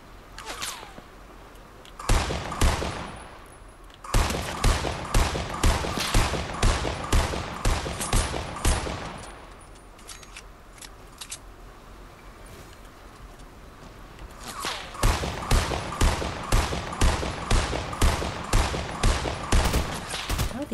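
Rapid bursts of gunfire in a first-person shooter video game, coming in rhythmic volleys of sharp shots. The bursts are separated by quieter pauses.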